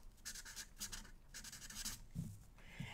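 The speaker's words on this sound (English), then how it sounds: "you're going to get your marker and you're going to write your name" A marker scratches across paper in short, quick strokes with brief pauses between them, close and quiet, with no voices.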